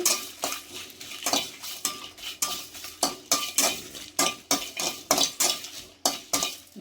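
Stuffed eggplants frying in a pan are stirred with a metal spoon in quick, regular scrapes and clinks against the pan, over a soft sizzle. No voices are heard.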